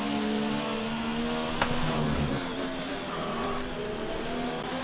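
Red Bull Formula 1 car engine in the F1 2019 racing game, driving on soft tires at Brazil, a steady high-pitched engine drone running continuously and loud throughout.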